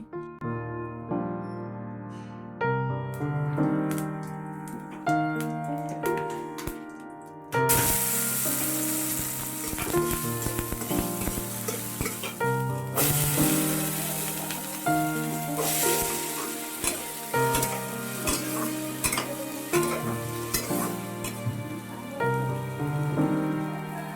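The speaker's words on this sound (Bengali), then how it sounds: "আর এখন এখানে মাছটা কিন্তু ভাজাও বসিয়ে দিয়েছে" Fish frying in hot oil in a pan for a home meal, a dense steady crackling sizzle with sharp pops, close and continuous under tonal background music that starts partway through.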